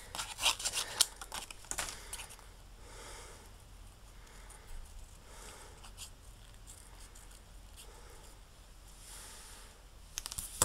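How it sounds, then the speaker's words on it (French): Scissors snip through a small chipboard bottle shape for a 3D scrapbook embellishment, giving quiet, close crisp cuts in scattered bursts near the start and end with soft handling rustle in between. "on va juste découper notre petite bouteille, tout simplement"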